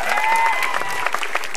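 Studio audience at a televised stand-up comedy show bursts into brief, dense applause, loud and close with a little cheering mixed in.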